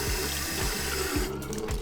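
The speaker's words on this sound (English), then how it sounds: "So you literally just turn the water on, give it a quick rinse," A bathroom faucet runs steadily for a quick rinse, a loud, close, continuous rush of water into the sink with a faint low pumping pulse beneath.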